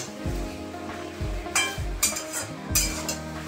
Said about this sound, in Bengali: মশলাটা কষানো হয়ে গেছে, তেল ছেড়ে গেছে